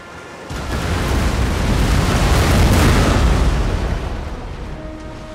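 Cannon artillery firing in the Napoleon: Total War video game, a loud sustained rumbling boom that swells and fades over several seconds, with no speech.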